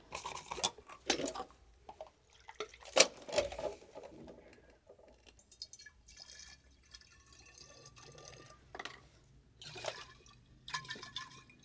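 Water is poured and sloshed for a film foley effect, making uneven splashes, trickles and drips in short bursts separated by quiet gaps, close up and with no speech.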